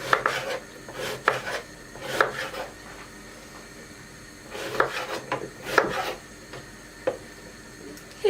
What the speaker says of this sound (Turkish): hepsini bu şekilde doğrayacağım